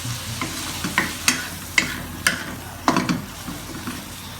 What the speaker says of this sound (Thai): เดี๋ยวรวนกุ้งนะให้สุกก่อนเนาะ